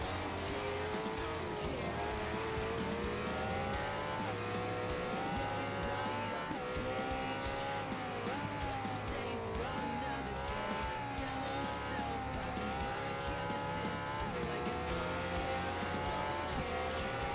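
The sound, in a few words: motorcycles racing and braking in video game Ride 4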